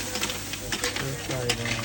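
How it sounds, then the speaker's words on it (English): Crab stir-frying in a Kampot pepper sauce of condensed milk, oyster sauce and soy sauce, a close, busy sizzle with quick scraping and clattering strokes over a short stretch. "Stir fry that."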